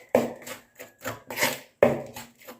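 A spoon stirs baking powder and baking soda together in a bowl, giving a few close, scraping and tapping strokes in uneven bursts, with no talking.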